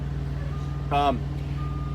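Reversing beep from a vehicle backing into a parking spot near a bobtail truck: a single short electronic beep, heard at moderate distance over a steady idling engine rumble.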